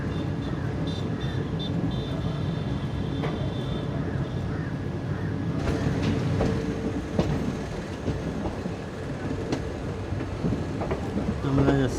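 22652 Chennai Superfast train rolling near Palakkad Town station, a steady broadband rumble of wheels and carriage noise throughout, with faint clicks and squeals rising toward the end.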